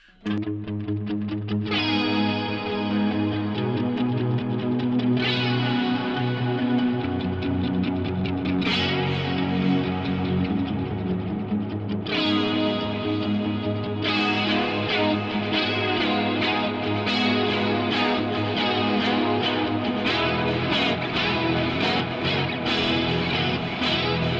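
Electric guitar played alone through a dual delay and a Big Sky hall reverb, with lush, repeating delays and a wide hall reverb, growing denser and more distorted as strummed chords ring out continuously.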